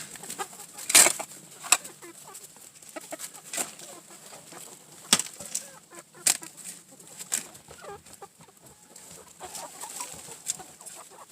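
Chickens on a homestead give scattered clucks and short calls at a moderate distance, with a few sharper squawks standing out against a quiet outdoor background.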